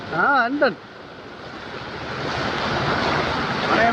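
Sea water surges and washes over a wall with a broad hissing rush that builds steadily, after a brief burst of voice at the start.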